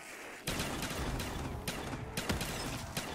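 A Spaz 12 shotgun fires in Black Ops 3 Zombies as a run of loud, sharp blasts at irregular intervals. Dense game noise fills the gaps between shots.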